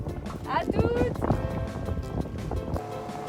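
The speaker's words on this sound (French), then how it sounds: "On emprunte la lancha d'un copain pour aller jusqu'à Livingstone au moteur, en traversant tout le golfe" A borrowed motor launch crosses a gulf toward Livingstone, with a steady engine drone, wind and water noise running under people talking.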